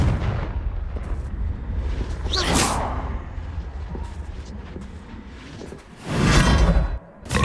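In the Hogwarts Legacy video game, a Confringo fire spell bursts with a loud whooshing blast, followed by a second heavy explosive rush near the end, all over continuous game ambience.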